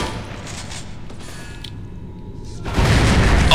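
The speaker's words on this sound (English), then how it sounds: "I'm gonna throw some grenades." Grenade explosions in the shooter UnderHell: a low, muffled rumble gives way to a sudden loud, heavy blast near the end that keeps roaring to the close.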